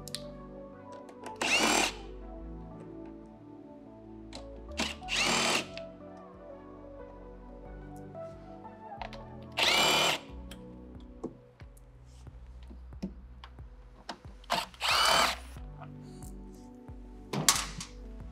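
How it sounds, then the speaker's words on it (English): A power driver with a 5mm Allen bit backs out side-panel fasteners on a CSC RX1E, giving about six short, loud whirring bursts separated by quiet gaps and faint handling clicks, close by. "Next, I'm going to use a 5mm Allen to remove 1, 2, 3, 4 fasteners from the side panel."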